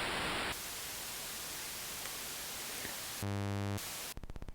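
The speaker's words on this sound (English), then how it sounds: "we have the noise of the white variety and the pink variety." Bursts of hissing synthesized white and pink noise from a Korg NTS-2, one brighter and one duller, alternating with steady static, then a short buzzing tone and a rapid clicking pulse.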